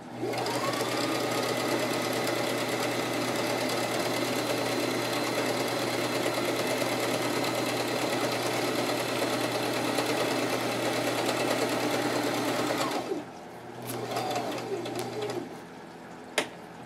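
A sewing machine stitches a tablet cover in a steady, loud, continuous run for about thirteen seconds, then stops, leaving quieter handling sounds and a brief click near the end.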